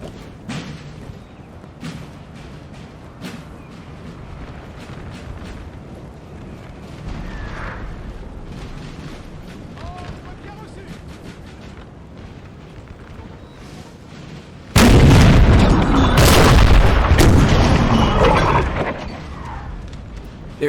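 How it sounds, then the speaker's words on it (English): Artillery booms across a Napoleon Total War battlefield as cannons on both sides fire into a French column, a low rumbling barrage that swells into a loud, sustained roar near the end. "There is artillery on both sides firing into this French column"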